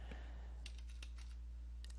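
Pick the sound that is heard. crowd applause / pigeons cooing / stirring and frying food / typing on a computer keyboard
typing on a computer keyboard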